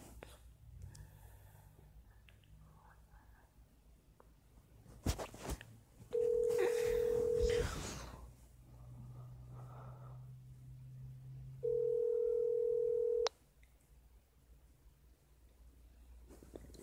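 A phone plays steady telephone tones in two long, even beeps a few seconds apart, heard close, with soft whispering and background murmur around them.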